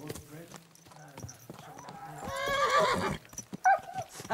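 A horse whinnies in a video game, with clip-clop hoofbeats at a stable and a voice talking over the scene; a loud, bright neigh rises near the middle and a shorter whinny follows near the end.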